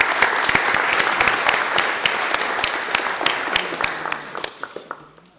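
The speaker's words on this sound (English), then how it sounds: "So if you all can join me in a round of applause for Herdy." An audience at a college district board of trustees meeting claps in a round of applause, dense and steady before thinning to scattered claps and fading out.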